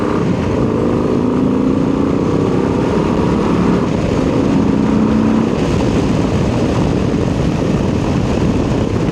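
A 2026 Low Rider ST motorcycle is being ridden, its engine a constant loud drone mixed with heavy wind rush that holds steady throughout.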